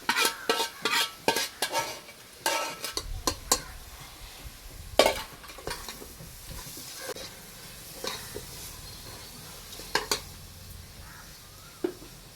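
Whole spices such as cinnamon roasting in a pan under repeated stirring give quick clattering scrapes and taps of a spoon against metal over a low sizzle, busy at first and sparser later, with no voices.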